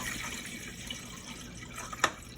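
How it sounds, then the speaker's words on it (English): Spring water poured into a vessel for making kombucha: a soft, continuous close trickle, ending in a brief brighter splash, with no talking. "I just pour some in."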